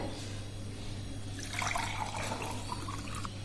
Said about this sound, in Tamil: இளநீரை கண்ணாடி டம்ளரில் ஊற்றிக்கிறேன்